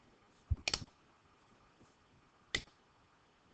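Computer mouse clicks while working in MediBang Paint, a quick cluster of sharp clicks followed by one more single click a couple of seconds later, close and quiet, no talking.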